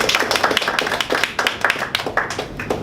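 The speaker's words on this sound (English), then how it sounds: "So let's give him another round of applause." A small audience gives a round of applause at a Toastmasters speech evaluation session, with individual hand claps distinct and close in an irregular, sparse patter that fades and picks up.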